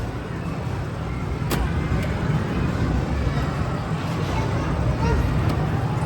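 A car engine pulling away under acceleration, a steady low rumble with road noise over several seconds, while people talk inside the vehicle.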